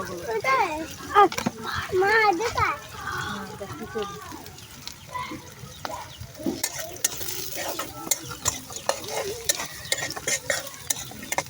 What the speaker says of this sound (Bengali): পেঁয়াজটাকে আর শুটকিটা ভালো করে ভাজিয়ে নিবি।